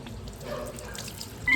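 Tap water runs into an airport washroom sink while someone brushes their teeth; a close, soft trickle and drip continues throughout, growing slightly louder at the end.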